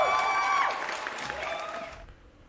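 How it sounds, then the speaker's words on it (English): An audience applauds a guest arriving on a live reaction stream, a dense wash of clapping that tapers off after about two seconds, with a tonal hum running underneath. "Round of applause."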